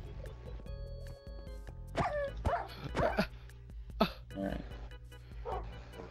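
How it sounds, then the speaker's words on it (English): A dog in Minecraft gives several short yips and whimpery barks at moderate distance over a low game background hum, with a brief spoken word. "Oh, there's a dog over there."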